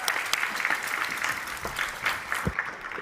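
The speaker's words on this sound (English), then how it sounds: "Please give them a round of applause and yourselves." Applause from a human rights conference audience thanking panelists, a fairly quiet patter of many hands that rises and falls over a few seconds with a few sharper individual claps.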